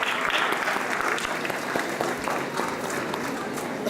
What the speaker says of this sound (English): Can we have a big round of applause for Kavaya, please?